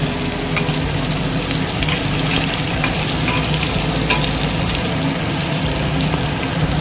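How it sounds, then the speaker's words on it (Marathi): Cloves, black pepper and crushed garlic sauté in hot oil for palak dal, giving a steady, close frying sizzle throughout with occasional small pops and stirring scrapes, no voices. "लवंग, काळी मिरी आणि लसूण ठेचून घेतलेला आहे तो घालून घेऊया आणि परतून घेऊया"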